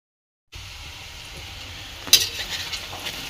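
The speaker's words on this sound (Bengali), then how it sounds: "এই যে পটল ভাজি করছি ডালের সাথে খাওয়ার জন্যে" Pointed gourd slices (potol bhaji) frying in a pan give a steady, faint sizzle after a silent start, with a brief clink of a utensil stirring partway through.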